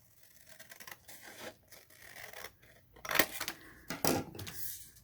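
Scissors snip through paper while cutting out a triangle for a scrapbook corner pocket, a few faint crisp cuts and rustles, the sharpest ones clustered near the end.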